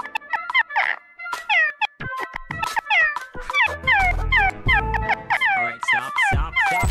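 Rapid, repeated meowing rings out close and loud, with many short pitched calls in quick succession, likely a person imitating a cat, with deeper thumps underneath.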